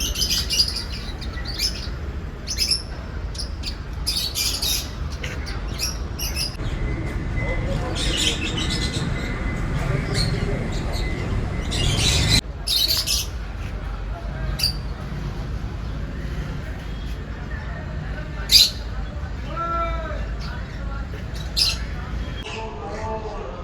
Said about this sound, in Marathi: पक्षी आहे